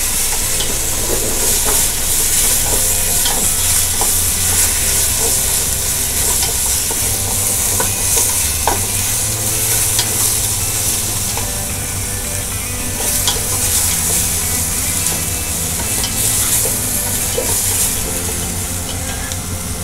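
Meat sizzles and crackles loudly in a hot pan as it is stir-fried for Bún Bò Huế, a dense steady frying hiss with occasional sharp pops and stirring clatter throughout, no talking.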